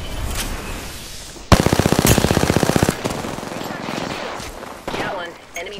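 Rapid automatic gunfire from the video game Apex Legends, a close, loud burst of evenly spaced shots lasting about a second and a half, with scattered impacts and game sounds before and after.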